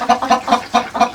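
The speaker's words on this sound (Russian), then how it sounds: "Эти куры больше всего пьют воды." Hens at a water bowl in a village coop cluck in a quick regular run of five short calls, close and clear.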